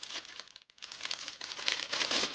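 Plastic wrapping on a board game box, with acrylic figures inside, crinkles and crackles close up as it is torn open. A brief pause comes early, then dense, continuous rustling builds louder.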